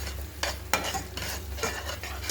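A spoon stirs spiced gravy with cumin powder and garam masala in a pan, making repeated scraping strokes over a low, steady sizzle.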